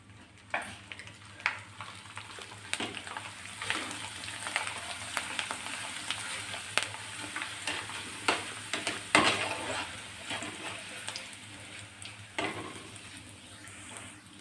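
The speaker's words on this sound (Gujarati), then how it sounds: "મેં અહીંયા બટેકાનું ખમણ લીધેલું છે તેને પણ આપણે ફ્રાય કરીશું" Grated potato frying in hot oil alongside fried sago pearls, a continuous dense crackling sizzle with sharp spatters and occasional utensil knocks, close and steady throughout with no speech.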